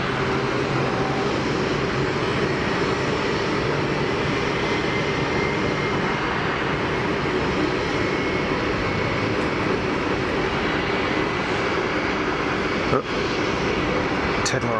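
Steady jet roar from an aircraft departing Geneva Airport, sustained and fairly loud throughout, heard from a distance with a faint murmur of talk underneath.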